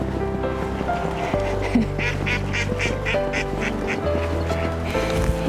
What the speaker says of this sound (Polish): I zobaczcie, ile kaczek.